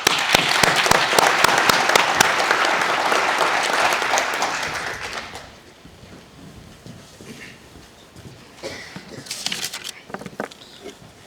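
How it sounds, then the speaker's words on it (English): Loud, dense audience applause at a public safety training center ribbon cutting fills the first five seconds, then thins to scattered, quieter clapping with a few brief bursts. "let me applaud you"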